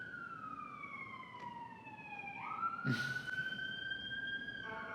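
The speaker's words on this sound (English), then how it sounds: "Another siren on Spruce Street." A single siren wails on a city street, sliding down slowly then rising again, moderately distant, with a brief clatter partway through and low street hum beneath.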